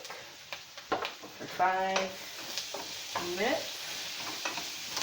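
Brussels sprouts topped with half a teaspoon of ginger cook in a pan, a steady soft sizzle with stirring scrapes and utensil clinks, heard under a speaking voice.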